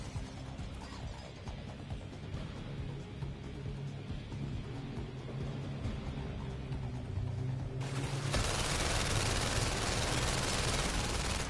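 Gunfire from the VR game London Heist: a steady, loud stream of shots and mechanical clatter throughout, swelling into a harsh burst near the end.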